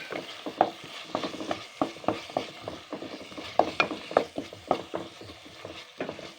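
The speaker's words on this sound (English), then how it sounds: "Then stir." Beef stirred in a frying pan for an African wet fry, a utensil scraping and clinking in an irregular rhythm of close, distinct strokes over a soft continuous sizzle, with no talking.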